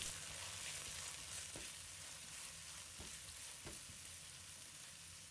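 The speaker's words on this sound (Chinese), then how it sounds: "炒香后加入另外一半蒜末，立即关火，继续搅拌均匀。" Scallion, ginger and garlic stirred in a wok, a steady soft sizzle with a few brief scraping strokes of the spatula, close and without speech.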